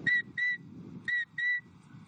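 A shepherd's whistle directing a sheepdog in the Béarn pastures: four short, bright two-note blasts in an even rhythm, loud and close, over a low rumbling background.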